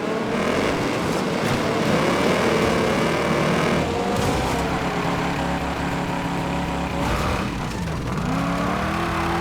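Roaring car engines at high revs in the racing video game Wreckfest 2, with rising and falling pitch as gears shift, loud and continuous with no talking.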